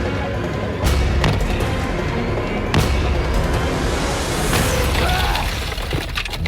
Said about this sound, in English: Try and kick through it. There's going to be a load of glass coming down on top of me.